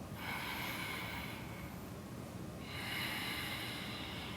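Deep breaths taken during a power yoga session: a long breathy inhale, a short pause, then a second airy breath, close and fairly loud with no talking.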